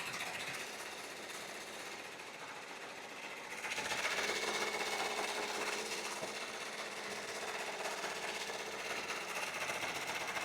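An embroidery machine stitches baseball laces onto a leather bag tag, a steady close mechanical whir and rapid needle chatter that grows slightly louder partway through and runs on without pause, no voices.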